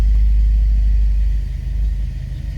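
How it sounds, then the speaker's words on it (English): A 1957 Chevrolet Bel Air four-door hardtop's V8 engine running right after starting, a loud, close, deep rumbling idle that dips briefly and then steadies. "Let's go ahead and fire it up."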